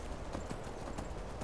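Horse hooves clopping in a steady trotting rhythm inside the video game Skyrim, close and continuous with no talking over them.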